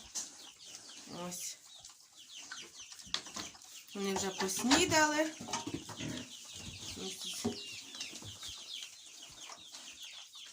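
Young chickens cluck and peep continuously in a warm farm shed, with a louder flurry of calls in the middle and someone speaking briefly over them.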